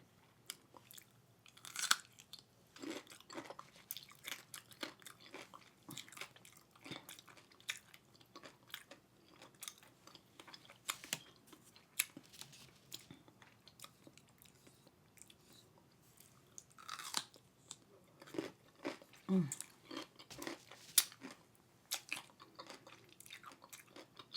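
Close, wet crunching and chewing of a pickle, bite after bite in an uneven rhythm, with no talking.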